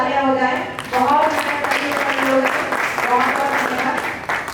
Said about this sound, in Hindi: एक बार फिर से हमारे नेपथ्य और मंची कलाकार के एक बार जोरदार तालियां हो जाए